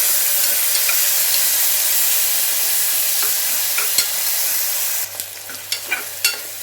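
Green chillies fry in hot oil with a loud, steady, close sizzle, followed near the end by a few sharp clinks of utensil against pan.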